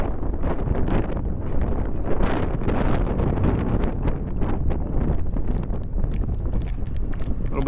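Gusty wind buffets the microphone during a roadside walk in Miyazaki, Japan, heading from Nango toward Nichinan: a steady, loud, rumbling roar with no pauses.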